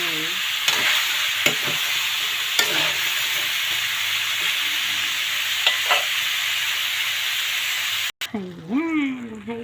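Chayote and pork liver frying in a pan, a steady close sizzle and hiss with a few scraping stirs of the utensil, and a voice speaking briefly at the end.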